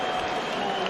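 Boxing crowd at a heavyweight title fight cheering and applauding, a dense continuous roar of claps and voices filling the arena, loud and steady.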